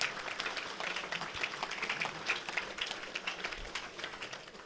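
Applause from an audience at an induction gala, a dense, steady patter of many hands clapping in a large room, moderately loud and continuous throughout.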